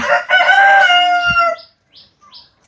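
A rooster on a chicken farm gives one loud, close crow with a long drawn-out call, then falls nearly silent apart from a few faint chirps.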